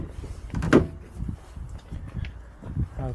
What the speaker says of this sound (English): I'm just going to open the side door because there's a little bit more light in.